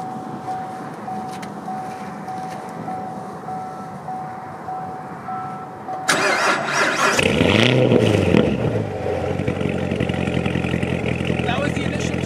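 A C7 Corvette Z51 warm start in track mode: after a quiet stretch with a voice speaking, the engine cranks and fires with a loud bark, then revs up and settles into a rumbling idle.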